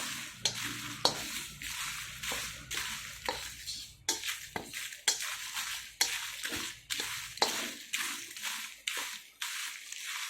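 Dry red chillies and seeds roast in a pan over a medium flame for curry leaf powder, stirred in repeated rhythmic strokes that give soft scraping, rustling bursts, close and fairly quiet.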